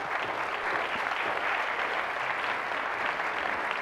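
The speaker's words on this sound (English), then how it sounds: "Give her a round of applause." Audience applauding a speaker at an education event, a dense, even roar of clapping that holds steady for about four seconds at moderate level with no talk over it.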